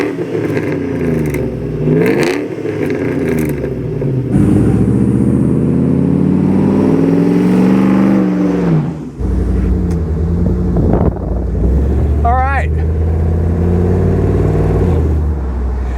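A modernized Coyote V8 in a 1974 Ford Bronco 4x4 runs through a 2.5-inch exhaust with 3-inch finishers, rumbling loudly and close with rising and falling revs and a deep steady drone, with wind buffeting throughout.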